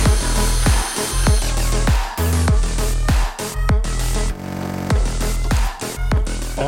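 A power tool bolting handmade motorcycle bodywork in place, producing loud, repeated short whirring bursts with rising and falling pitch, close up and with no voices.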